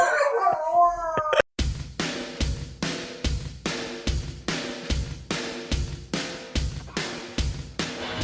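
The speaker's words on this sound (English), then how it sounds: "They're howling." Two golden retrievers howl in rising, wavering tones for about a second and a half, then the howling gives way to a steady, rhythmic pounding beat that continues to the end.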